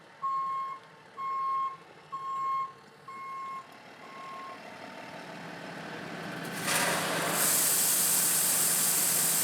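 A gravel delivery truck reverses with a steady series of loud backup beeps, then air brakes or a hydraulic hiss rise into a broad roar as it works near a garage slab site.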